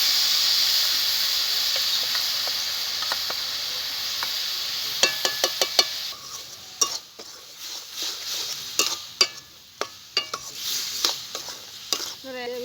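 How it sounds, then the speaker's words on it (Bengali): Coconut filling mixed with jaggery and milk for patisapta is added to a hot wok, bringing a soft sizzle with sharp clicks and scrapes of a spatula stirring against the pan, growing busier in the second half; no one speaks. "এখন এই নারকেলের এই মিশ্রণটা আমি দিয়ে দেবো কড়াইতে।"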